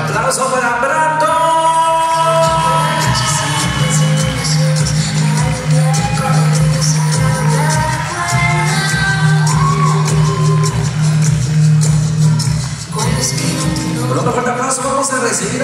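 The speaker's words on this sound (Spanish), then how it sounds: "El aplauso para Brandon." At a sweet sixteen party, a crowd cheers, whoops and applauds for a chambelán named Brandon, the noise rising and falling over loud, thumping dance music throughout.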